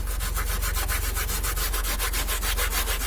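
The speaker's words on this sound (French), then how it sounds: "Munissez-vous d'une brosse métallique comme ceci" Wire brush scrubbing rust off a car body, fast rhythmic back-and-forth scraping strokes, loud and close, continuous throughout with no talking.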